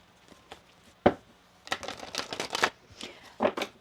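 A tarot card deck is shuffled by hand in close, crisp riffles and flutters, with a sharp tap early on and scattered softer card sounds around the bursts.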